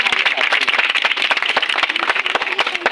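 An audience claps steadily to welcome the academy founder at a Republic Day poetry gathering at Unique Academy Institute, a dense, continuous patter of many hands with faint voices mixed in.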